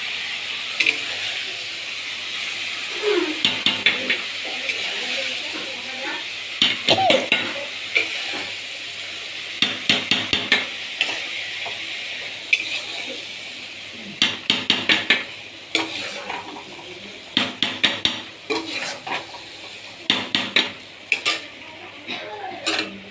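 A spoon scrapes and knocks around a pot of dalia porridge in repeated bursts of stirring, with a soft simmering hiss underneath between strokes.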